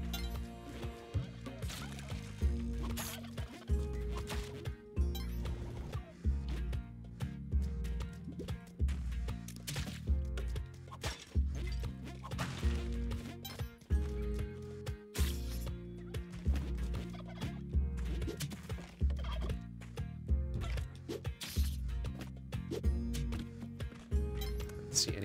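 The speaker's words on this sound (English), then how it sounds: "Turkeys on the way down." Turkeys gobble in the video game Spelunky 2, mixed into a busy, rhythmic game soundtrack with repeated percussive hits that continue throughout, without any talking.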